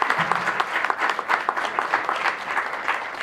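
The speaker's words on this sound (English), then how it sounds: "So let us give our panelists a round of applause." Conference audience applauding panelists at a sustainable living event, a steady dense patter of many hands clapping for a few seconds, moderately close.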